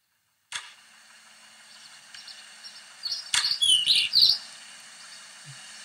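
Birds chirp and tweet in bright, quick bursts over a steady hum of distant traffic, growing busier and louder toward the end.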